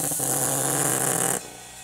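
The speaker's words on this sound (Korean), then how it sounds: "냉장고 컴프레셔." A refrigerator compressor repurposed as an airbrush compressor for model painting runs with a steady, loud mechanical hum and hiss, then drops abruptly to a quieter background level near the end.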